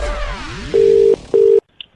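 Two steady electronic telephone tones, each under half a second, following a sweep of faint descending chirps, then a short quiet gap with a tiny blip.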